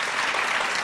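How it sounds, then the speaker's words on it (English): Conference audience applauding, a dense, even wash of many hands clapping at once, fairly loud and sustained through the short moment without any voices. "Give yourself a round of applause."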